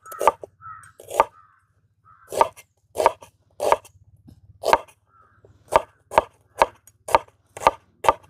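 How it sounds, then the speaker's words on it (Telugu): Onions chopped with a knife on a board, about a dozen sharp, close thuds in an irregular then steadier rhythm, with a brief faint chirp between strokes. "అలాగే మనం గారెల్లో ఉల్లిపాయలు కూడా కట్ చేసుకుందాం అండి"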